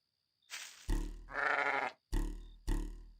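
A sheep wearing a hat in a video game, giving several loud, close, synthetic-sounding bleats and grunts in separate bursts, one held longer than the others, with no talk.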